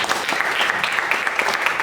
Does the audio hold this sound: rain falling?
no